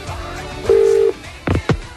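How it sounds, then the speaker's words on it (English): A telephone call placed to a public phone box in a shopping centre: a steady tone followed by two short bursts of dialing or ringing, close and clear with no talk. "One of my favourite things to do is to call phone boxes."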